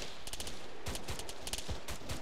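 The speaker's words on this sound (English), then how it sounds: "You're under fire. They're high, they're shooting high." Enemy gunfire in a military shooter game, rapid bursts of shots cracking in quick clusters, fairly close and loud, with no talking.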